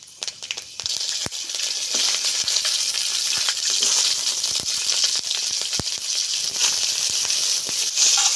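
Dried chillies, bay leaf and five-spice crackle and sizzle in hot oil in a kadai, a steady hiss broken by sharp pops and spits throughout.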